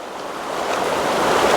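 Waves on Lough Muckno, a lake, wash steadily against the shore with a windy, rushing texture that swells slightly louder toward the end, with no voices.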